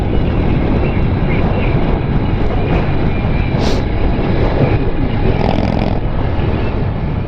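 A Victory Empulse TT electric motorcycle moves under way with a steady, loud rush of motor whine and wind noise. The rider starts off in third gear, and there is no speech.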